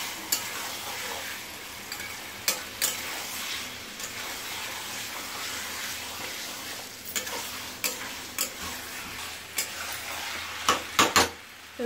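Chicken being sautéed dry without water in a pan, a continuous close sizzle with occasional sharp scrapes and knocks of a spatula stirring, growing busier toward the end, no voices.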